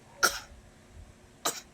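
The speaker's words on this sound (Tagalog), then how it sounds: "umubo lang ng umubo" A child gives two short, sharp fake coughs about a second apart, close and moderately loud against a quiet room.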